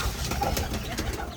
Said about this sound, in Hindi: तो ये कबूतर बाहर आए हैं, इनको भी अंदर करूँ चल के दाना खाएं